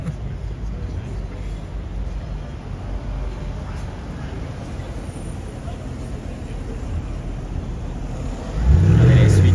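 A Mercedes-AMG 63 approaches on a street in Zurich, its engine note swelling into a loud, close rumble as it nears at the very end, over steady traffic and street noise with someone speaking.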